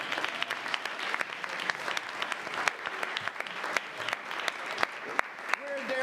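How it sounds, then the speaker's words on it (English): An audience at a city commission meeting breaks into steady clapping. The applause is dense and sustained for several seconds, with crowd noise mixed in. "You may applaud."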